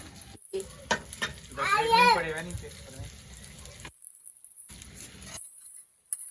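Food being fried and stirred in a pan at home, a moderate sizzle with bursts of stirring, broken by brief gaps and with a voice talking over part of it.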